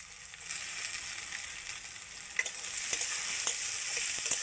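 Onions fry over a fairly high flame in a pan, a steady bright sizzle with a few light scrapes and taps as they are stirred.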